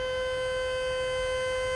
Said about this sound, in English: that siren tells us that a 5th floodgate has now opened to relieve the pressure from upriver